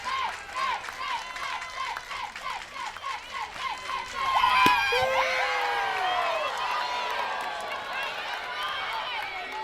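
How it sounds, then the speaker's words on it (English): A big, loud crowd at a Washington vs. Alabama NCAA softball super regional game in Seattle cheers and shouts across the stands while an announcer talks over the steady roar. "Big crowd, vocal crowd."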